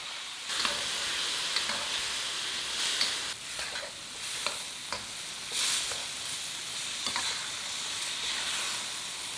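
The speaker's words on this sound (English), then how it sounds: "fry, stirring often, for about 1 to 2 minutes until that sauce is thoroughly heated through" Beef in black bean sauce sizzles steadily in a hot pan while being stirred often, with repeated scraping strokes and bursts of hiss over a continuous frying crackle, close and moderately loud.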